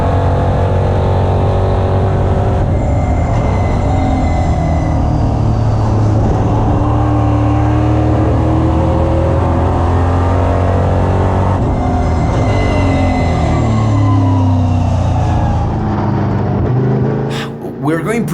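A EuroNASCAR race car at speed on the Valencia circuit, its loud engine droning and climbing through gears continuously from close inside the car, with a brief dip near the end.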